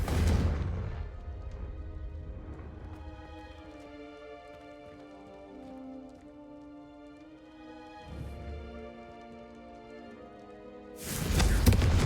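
Confringo blasting spell in the Hogwarts Legacy video game: a sharp explosive burst at the start, a second blast near the middle and a loud boom at the end, separated by a quieter sustained musical tone.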